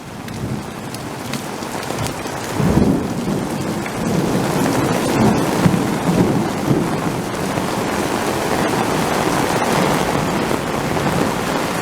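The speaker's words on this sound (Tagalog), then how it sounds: "Ang lakas ng kulog." Heavy rain pours steadily throughout, with a deep rumble of thunder rolling in near the start and low rumbling continuing beneath the downpour.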